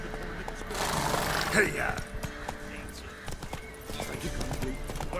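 The horse Roach gallops in The Witcher 3 with rhythmic clip-clop hoofbeats, fairly close, under a shouted rider's cry and game sounds.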